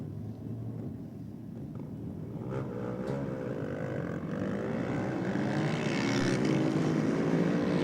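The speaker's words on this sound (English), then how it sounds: "Next pair of bikes charging to the finish line" Drag racing motorcycles thunder down the strip toward the finish line, a rising engine roar that swells steadily louder over a constant crowd-and-track background.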